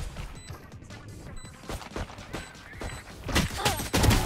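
Gunfire in the video game Valorant, a quick volley of sharp shots and impacts, close and punchy, building louder toward the end.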